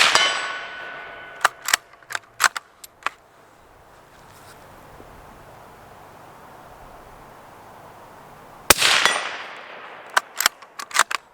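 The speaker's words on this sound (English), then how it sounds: "Even hitting that silhouette 100 yards away, the bullet hitting it is so much louder than the gun" Bullets strike a steel silhouette target 100 yards away, fired from a Ruger American Scout rifle: sharp ringing metallic clangs in short bursts, several spaced impacts early, a loud hit near the end, then more clangs, with quiet gaps between.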